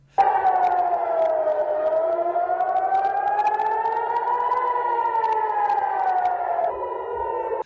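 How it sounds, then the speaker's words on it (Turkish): A civil defense air raid siren in Israel wails continuously, its tone slowly rising and falling, loud and sustained for several seconds. "sirenlerin çaldığını açıkladı"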